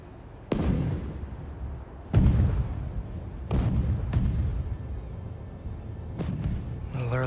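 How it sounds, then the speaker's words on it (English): Explosions boom in a Spider-Man video game, five heavy blasts spread over several seconds, each sharp onset followed by a rumbling decay, loud and close. "A little early for fireworks."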